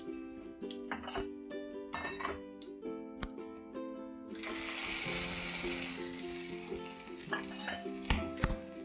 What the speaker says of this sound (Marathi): आणि दोन तीन पानं आणि हा तळसा आपल्या चटणीवर घालून घेतो